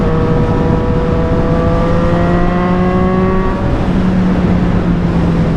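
A Triumph Street Triple 765RS motorcycle fitted with an SC Project exhaust revs loud and close, a steady high engine drone whose pitch climbs smoothly through the higher RPMs, dips briefly, then holds again.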